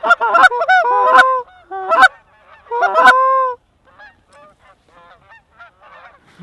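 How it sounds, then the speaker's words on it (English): A flock of geese honks loudly and close over a decoy spread during a waterfowl hunt, overlapping calls in bursts for about three seconds before thinning to quieter scattered honks. "Group of geese on the left."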